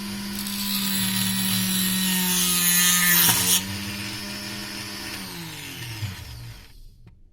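A homemade angle-cutting saw whines loudly as it cuts a wooden strip, a steady high motor drone with a harsh cutting rasp that drops away midway, then the motor winds down and stops.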